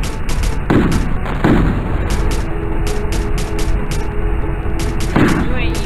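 Repeated booming blasts of missile bombardment in the Warzone tower defense video game, several heavy impacts landing close together over dense continuous battle noise, with a voice talking throughout.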